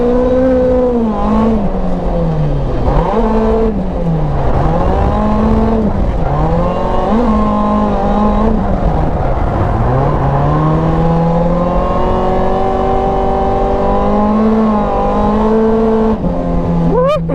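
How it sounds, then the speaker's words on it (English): Toyota AE86 drifting with heavy tire smoke, its engine loud and close, revving and wailing up and down continuously with squealing tires throughout, no talk. "Big smoky drifts."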